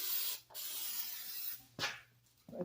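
An aerosol can of brake parts cleaner sprays in several hissing bursts, one long blast followed by shorter squirts, close and fairly quiet, while cleaning a Monarch 10EE toolroom lathe.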